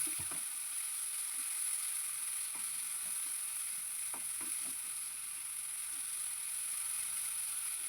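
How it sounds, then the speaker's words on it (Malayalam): Curry paste sautés in a pan over a high flame, giving a steady close sizzle with scattered scraping and stirring clicks. "ഒരു 2 മിനിറ്റ് മാത്രം ഇതൊന്ന് ഹൈ ഫ്ലെയിമിൽ വെച്ചിട്ട് തന്നെ ഇതൊന്ന് വഴറ്റിയെടുത്താൽ മതി"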